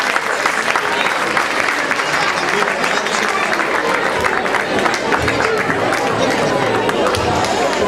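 A folk festival audience gives loud, sustained applause, a thick continuous roar of many hands close up with murmured crowd chatter mixed in throughout.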